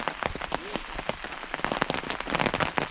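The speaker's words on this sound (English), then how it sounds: "it's been raining nonstop all day" Heavy rain pours steadily at a rainforest wilderness campsite, dense close patter of drops hitting surfaces with no pause, loud and continuous throughout.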